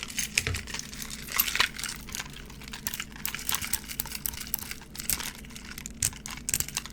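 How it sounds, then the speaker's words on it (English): Two metal keys tapped and rubbed against each other right at the microphone, giving a dense run of quick, bright clicks and scrapes that continues throughout, close and crisp. "What if you tap two keys together close to the microphone?"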